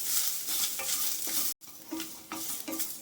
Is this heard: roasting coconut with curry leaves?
yes